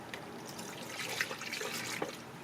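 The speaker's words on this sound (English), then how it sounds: "Let's first fill it up with the first gallon." Pink and red antifreeze coolant poured from a gallon jug into the radiator of a Toyota Camry, a steady close trickle of liquid with small splashes and gurgles, and no one talking.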